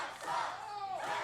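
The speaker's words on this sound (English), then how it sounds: "This crowd letting Certified know how they feel." Crowd at a wrestling steel cage championship match shouts in unison at a wrestler, a loud, brief swelling roar.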